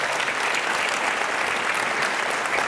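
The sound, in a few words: audience applause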